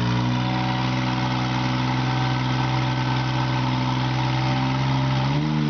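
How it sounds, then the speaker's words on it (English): A forestry bucket truck's engine idles with a steady, loud, close rumble, its pitch dropping slightly near the end as the motor eases down; no voices are heard. "I'm going to idle this motor down a bit so we can hear better in the video."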